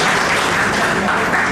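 Dense, steady applause from a workshop audience in a Kanpur collectorate hall, loud and close, filling the whole moment without a break.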